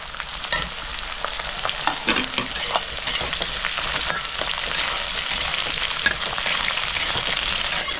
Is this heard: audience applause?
no